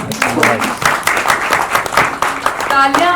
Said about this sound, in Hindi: एक बार जोरदार तालियां सभाजी की